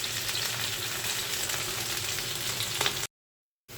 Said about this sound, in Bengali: হালকা একটু ভাজি দিলে মাছটা খেতে খুবই ভালো লাগে, যার জন্য আমি হালকা একটু ভাজি করে নিচ্ছি